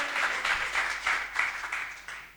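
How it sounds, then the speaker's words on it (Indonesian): A congregation claps during a church worship service, a sustained round of enthusiastic applause with rhythmic surges, moderately loud and filling the room. "Tepuk tangan lagi yang meriah untuk Tuhan."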